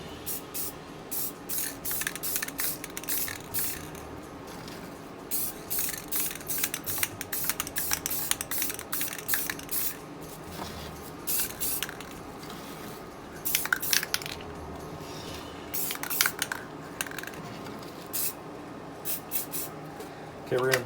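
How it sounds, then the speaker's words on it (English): Bursts of clear coat from an aerosol spray paint can hiss in short, repeated blasts with brief pauses between them, close and moderately loud, while refinishing a Michael Myers mask. "With any spray paint, make sure you shake very well"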